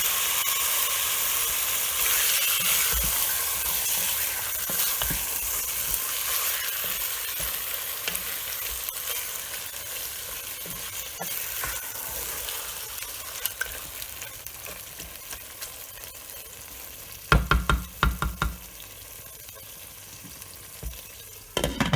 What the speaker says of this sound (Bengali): এবার সব কিছু একসাথে খুব ভালোভাবে কষাবো এবং এই পর্যায়ে চুলার আঁচটা মিডিয়াম আঁচে রেখে দেব।